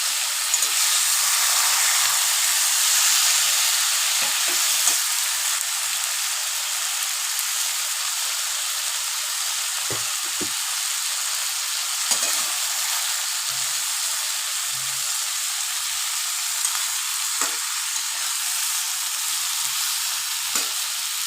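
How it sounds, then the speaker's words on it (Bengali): Mashed masoor dal fries and is stirred in a pan, a loud steady sizzle and hiss with occasional faint scrapes of the spoon, close and continuous without speech. "এটা এবার নাড়াতে থাকে"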